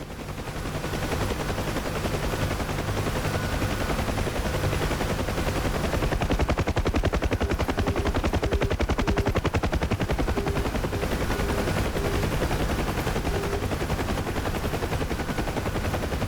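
The right-side door gunner of a Huey helicopter in DCS World fires a machine gun in a long, continuous rapid burst, loud and close over the steady drone of the rotor and engine.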